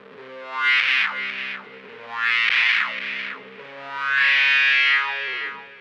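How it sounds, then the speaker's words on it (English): Heavily distorted bass with sweeping wah and trailing delay, playing three long swelling notes that rise and fall in tone, loud and alone, a metal bass tone. "I'm using a delay and a touch of wah-wah"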